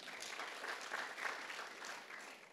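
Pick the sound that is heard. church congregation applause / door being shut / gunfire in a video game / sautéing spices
church congregation applause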